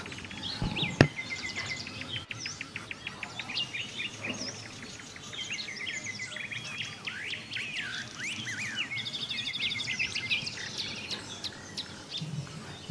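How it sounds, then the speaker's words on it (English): Several birds sing and chirp through a deep forest, with overlapping bright trills and tweets at varied distances and a sharp snap near the start, with no talking. "The songs of the birds will forever be a reminder of the wonder and majesty of the natural world."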